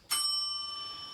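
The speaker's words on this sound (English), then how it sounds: "That bell ringing still." A small bell is struck once and rings on with a long, clear, slowly fading sustain in a quiet room.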